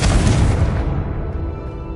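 A Confringo blasting spell explodes in a Hogwarts video game: one loud, close boom with a deep rumbling tail that fades over about two seconds.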